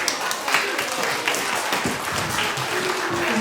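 A children's theatre audience claps enthusiastically during a Pika stage show, a bright, continuous patter of many hands, fairly close and lively throughout the few seconds.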